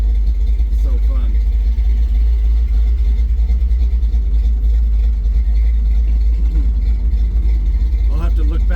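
A 1963.5 Ford Galaxie with a new exhaust rumbles steadily while driving, a deep continuous engine drone with slight revving, up close from inside the car, with speech over it.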